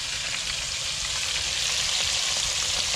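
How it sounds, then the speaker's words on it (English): Red snapper pieces fry in a pan of hot oil, giving a steady, even sizzle and hiss that stays close and constant throughout without any voices. "Let's fry and then you can give it a turn"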